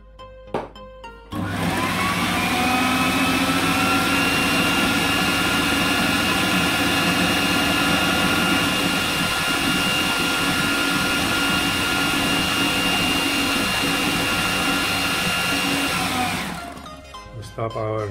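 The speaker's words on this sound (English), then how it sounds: "We stop our blender for a second and we scrape one more time." A blender whirs loudly and steadily at high speed for about fifteen seconds while blending garlic sauce with lemon, starting and stopping abruptly, with brief speech at the start and end.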